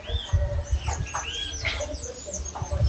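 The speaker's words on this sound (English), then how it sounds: "the sounds of birds." Birds chirp and coo in a yard, with short high tweets and soft low calls over a steady outdoor background.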